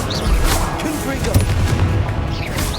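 Confringo blasting spell explosions in Hogwarts Legacy, repeated booming bursts and crackles amid busy combat noise, with a voice talking through it.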